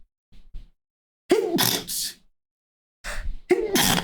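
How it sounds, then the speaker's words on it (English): A close, loud sneeze with a sharp sucked-in breath leading into the burst, followed by a second sneeze after a pause. "Oh no, I'm gonna sneeze."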